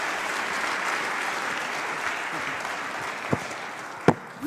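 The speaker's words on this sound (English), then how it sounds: "On peut l'applaudir." Steady audience applause at a biotechnology conference, a continuous even roar of clapping with a couple of sharper knocks near the end.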